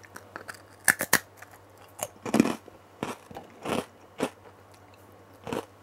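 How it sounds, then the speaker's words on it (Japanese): Kingodo rice cracker being bitten and chewed close up, a series of sharp, dry crunches in uneven bursts with quiet pauses between and no talking. "普通のせんべいっぽいのを食べてみます"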